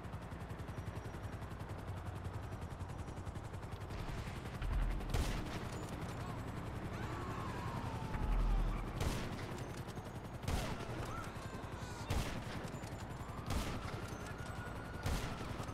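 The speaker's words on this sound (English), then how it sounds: "I shot him out of his chopper." Gunfire in GTA V Online, with a player shooting at a helicopter: sharp shots crack out singly every second or two over a steady background rumble, loud and close.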